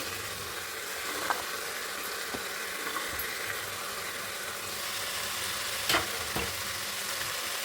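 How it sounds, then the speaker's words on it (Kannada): Capsicum, beans and carrot fry in hot oil in a pan for a basmati veg pulao, giving a steady close sizzle that runs throughout, broken by a few faint clinks of stirring. "ಇವಾಗ ತರಕಾರಿ ಹಾಕ್ಕೋತೀನಿ ಒಂದೊಂದೇ. Capsicum, ಹುಳ್ಳಿಕಾಯಿ, carrot,"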